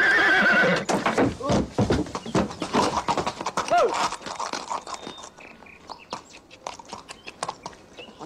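A horse whinnies loudly up close, followed by clopping hooves and scraping, with someone talking over the noise.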